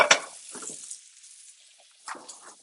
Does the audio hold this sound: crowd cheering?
no